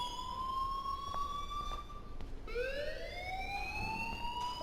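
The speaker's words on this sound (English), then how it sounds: "please turn off that alarm since that's your job" A school alarm in the video game Life is Strange rings out as a loud electronic siren-like tone, holding steady, dropping out briefly, then sweeping back up in pitch.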